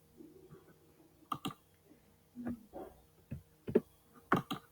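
A computer mouse clicks in a quiet room, several sharp isolated clicks spread unevenly, some in quick pairs, close and fairly soft.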